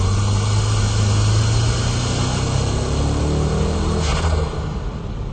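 A K-Office Nissan S14 drift car runs on a wet track, its engine a loud, steady low drone held at constant revs and easing off near the end, with a faint high whine above and no voices.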